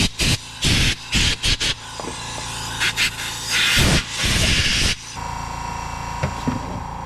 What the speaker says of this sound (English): I'm going to get the compressed air.